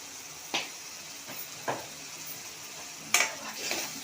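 Ginger, garlic, chili and asafoetida fry in a pan with a soft steady sizzle, broken by a few sharp scrapes and clinks of a spoon stirring against the metal, close and fairly quiet with no talking.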